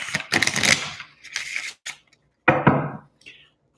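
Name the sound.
shuffling tarot cards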